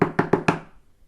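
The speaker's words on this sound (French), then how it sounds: "quelqu'un frappa à la porte du magasin." Knocking on a shop door: four quick, evenly spaced wooden knocks up close, followed by a short fading tail and near silence.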